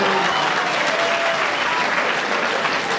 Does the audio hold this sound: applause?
yes